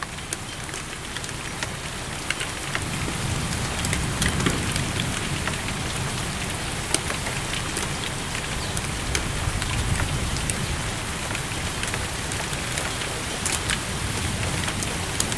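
Heavy rain pours steadily during a thunderstorm in Kerken, a dense, loud, unbroken hiss of drops hammering surfaces for the whole stretch, with no voices.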